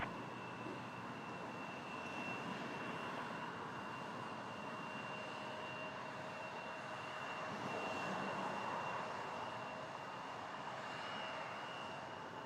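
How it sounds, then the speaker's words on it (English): An Embraer E175 airliner passing at Toronto Pearson airport gives a steady, broad jet roar with a faint whine, swelling slightly midway, heard at moderate distance with no talk. "Next up, the Brazilian Embraer E175."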